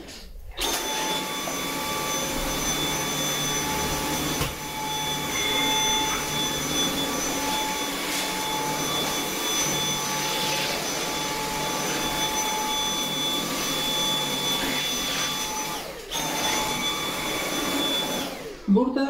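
A cordless stick vacuum, either a Tefal TY9688 X-Force 8.60 or a Dyson V8, runs with a loud, steady high-pitched motor whine for the whole stretch, briefly dipping twice as it is handled.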